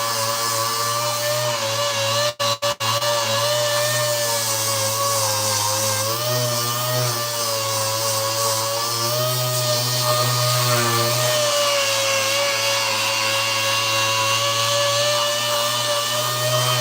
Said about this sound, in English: I'm just pre-sanding it with 80 grit